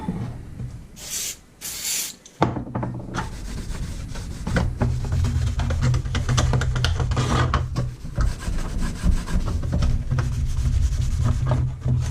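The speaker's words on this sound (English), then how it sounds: "Hit them with a quick scuff." Scuff pads rub across the T-top surface of a 1985 Mustang GT ahead of paint, a steady close rasping scrub that runs nearly continuously with short pauses.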